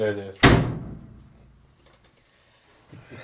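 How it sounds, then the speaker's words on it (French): A garage door closes with one sharp, loud thud near the start, then the sound decays into quiet. Someone is talking just before the impact. "On ferme la porte de garage."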